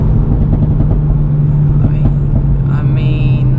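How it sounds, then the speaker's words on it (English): Tuned five-cylinder Audi RS3 with a stage 2 tune on a mountain drive, heard from inside as a loud, steady low engine drone under acceleration, with faint higher tones near the end. "Car sounds incredible, the 5-cylinder."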